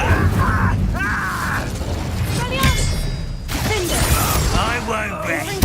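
An Incendio fire spell cast in Hogwarts Legacy bursts with whooshing, crackling magical effects over a dense, steady wash of game sound, with voices from the game mixed in.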